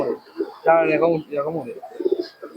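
Low, throaty coos from Giribaz pigeons rise and fall in short bursts, close by, with a voice speaking around them.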